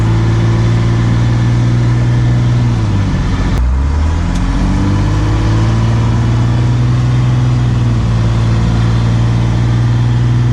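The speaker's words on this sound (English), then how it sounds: "the issue is with the bad muffler, it's kind of loud" A dump truck with a bad, loud muffler runs at a heavy, rumbling idle, rises briefly as the throttle is blipped, then settles back into a steady, loud, droning idle close by.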